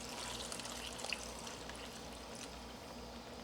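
Cool tap water pours quietly into a Ziploc bag, a soft, steady trickle heard close up and alone.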